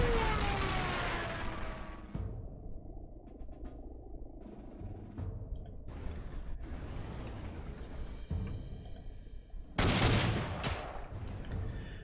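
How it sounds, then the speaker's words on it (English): Explosions and rattling gunfire from a dive bomber attacking a tank in the Panzer Corps 2 war strategy video game, a sustained battle rumble with a whistling descent and a sharp blast near the end. "Let's see about eliminating this tank here. Dive bomb this into the next life."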